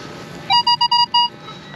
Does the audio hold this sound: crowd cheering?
no